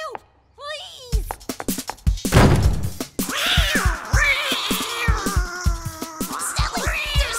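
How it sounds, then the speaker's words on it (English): A cartoon cat meows repeatedly in a busy animated scene, its calls rising and falling over music and other sound effects while characters talk nearby. "Alex, where's this cat?"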